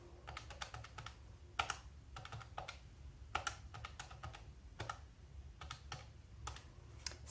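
Keys are tapped in quick clustered bursts while a budget total is worked out, light plastic clicks arriving in short runs separated by brief pauses, close and fairly quiet, with no talking.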